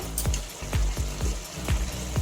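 Ground spices sauté in hot oil with pointed gourd and prawns: a wet sizzle with rhythmic scraping and stirring strokes, repeating several times a second, close and steady.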